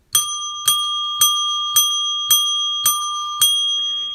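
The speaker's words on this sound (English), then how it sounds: "Don, can you announce the hourly winner and ring your bell, please?" A hand bell rings seven times at a steady pace during an hourly giveaway announcement, each clear metallic strike sounding close and loud, with a sustained ringing tone between strikes.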